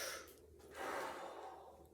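Breathing in through the nose during an exercise routine: soft, close nasal inhalations, a short sniff early then a longer airy intake, quiet and without talk.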